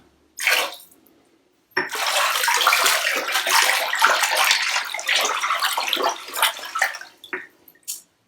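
Water poured into a basin prepared for soaking hand-dyed yarn, a brief splash followed by a steady, full gush of running water that ends with a few trickles, close and alone.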